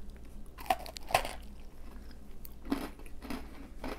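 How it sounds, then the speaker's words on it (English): A few sharp crunches as a crisp cranberry pistachio biscotti is bitten, followed by quieter chewing, close and distinct in a quiet room. "Let me just take a small bite here."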